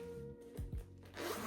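A zipper on a Huda Beauty PR package is pulled open in two quick, close rasping strokes, quiet and alone, followed by a soft rustle of the bag.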